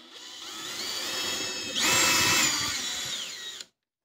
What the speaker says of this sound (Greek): Το τρυπάνι για αρχή είναι οδηγός.